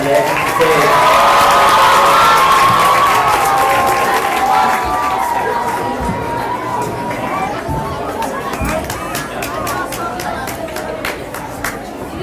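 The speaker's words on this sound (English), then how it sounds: "big round of applause for the 6th grade class" Applause and cheering for a 6th grade class at a school graduation ceremony: loud shouts and whoops over clapping at first, settling into crowd chatter and scattered claps with children's voices.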